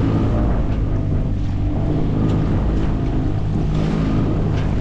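Wind buffets a boat at the Black Sea harbor entrance, where shallower water builds bigger waves. A loud, steady roar of wind and churning water continues without a break and no one speaks.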